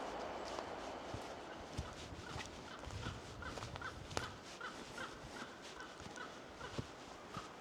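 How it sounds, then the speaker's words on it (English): An unfamiliar bird calls in Ballykelly Forest in early spring: faint, repeated harsh calls drift from a distance over soft rustling and footstep-like crunches, with no talking. "That's probably some rare bird there, you know."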